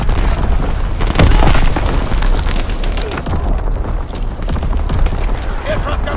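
Mortar rounds exploding in Call of Duty WW2, loud booming impacts and crackling blasts mixed with rapid gunfire throughout a dense, continuous battle din.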